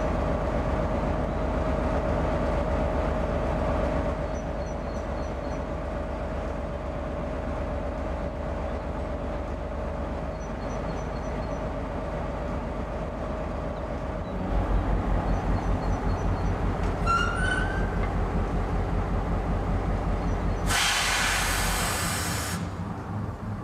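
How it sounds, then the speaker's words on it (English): A model railway freight train rolls steadily toward a staging area, a continuous low rumble and clatter of wheels on track with a brief burst of hiss near the end, no voices. "here's the final result with the first freight train approaching the staging area"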